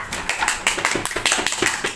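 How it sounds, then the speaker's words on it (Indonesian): Classroom applause for a student group in a mathematics lesson, a brisk burst of many hands clapping together, close and fairly loud, with no talk over it. "Beri tepuk tangan kepada kelompok A."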